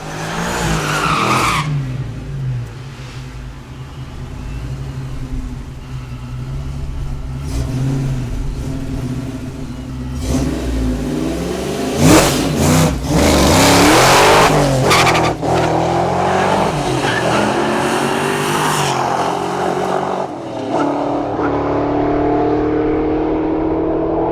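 A Fox Body Mustang revs hard and accelerates through a drag run of 11.7 seconds at 123 mph, with a screech of tires and a loud, sustained roar that builds and shifts through gears.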